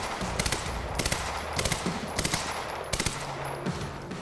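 Gunfire in the video game Quantum Break comes as quick bursts of sharp shots, four or five clusters spaced about half a second apart over a steady background hum, with no talk.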